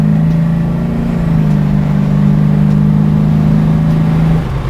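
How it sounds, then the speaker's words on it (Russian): A 1970 Chevrolet Chevelle SS with a Big Block 454 V8 runs loud and close, a deep, throbbing engine note that holds a heavy rumble and swells slightly as the throttle is worked. "Он именно звук Chevrolet Big Block 454 мотора."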